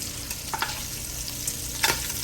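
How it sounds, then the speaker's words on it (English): Pork searing in hot oil in a single pot while making pastalaya, a steady close sizzle with a few sharp spatters and crackles throughout, no voices. "we're gonna sear this these pork"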